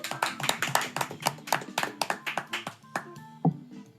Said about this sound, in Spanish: Un aplauso para él, ¿no?